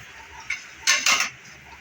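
A spoon scrapes and clinks against a pan in two or three short, close strokes as spices and kasuri methi are stirred into dhaba-style chana dal, with no voices.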